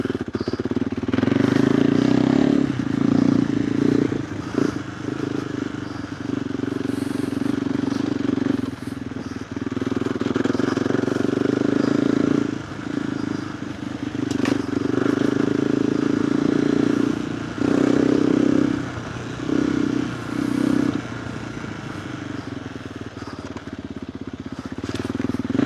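A KTM 390 Adventure R with a Norifumi Whoops exhaust rides off-road on knobby tyres, its single-cylinder engine droning loud and close with repeated throttle rises and dips, plus occasional rattles and wind buffeting.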